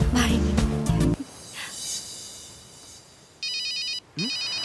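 A phone's electronic ringtone sounds in two short repeating bursts near the end, following music and a quieter stretch in a Tamil film scene.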